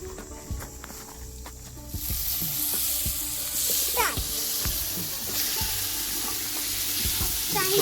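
Marinated paneer frying in a pan, a sizzle that rises and holds after a quieter start, broken by scraping spoon strokes and faint background voices at a village party.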